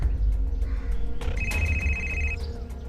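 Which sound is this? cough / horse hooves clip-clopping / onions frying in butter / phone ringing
phone ringing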